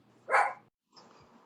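A single short, sharp bark from a dog indoors, close and fairly loud, followed by a softer, muffled sound and then quiet.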